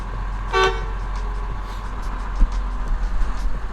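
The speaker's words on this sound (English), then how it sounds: "You got your regular horn, and then you got your air horn." A brief, loud air horn blast from a box truck rings out once over a steady low engine rumble, followed by a faint knock.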